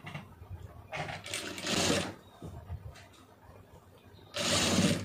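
A sewing machine stitching a blouse neckline runs in short bursts: a whirring stretch of stitching, a pause with light mechanical clicks, then another burst of stitching at the end, close and fairly loud.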